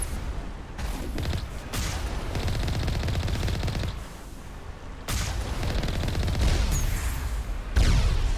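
Rapid automatic gunfire from the video game Mass Effect rattles in long bursts aimed at the player, with short pauses, loud and dense, with no speech.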